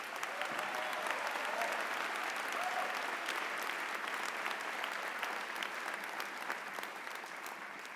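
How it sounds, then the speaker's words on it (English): A commencement audience at the University of the Arts applauds graduates, a dense, steady wash of clapping from a large crowd that holds evenly and fades slightly toward the end. "So let's give you a round of applause for everyone."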